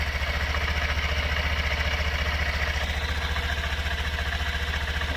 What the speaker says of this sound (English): it does appear to be idling high.